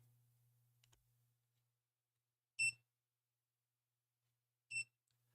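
A kitchen-style timer being set for drawing: a faint low hum and soft click at first, then two short, bright electronic beeps about two seconds apart in an otherwise quiet room.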